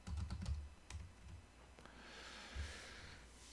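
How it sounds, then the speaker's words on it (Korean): Quiet keystrokes on a computer keyboard, a quick run of taps followed by a few scattered presses, close and faint in a calm room. "여기서 오라클 한번 쳐보죠."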